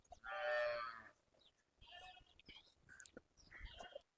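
A desi cow at a cattle market gives one loud, drawn-out moo up close, followed by quieter shuffling and faint farmyard sounds.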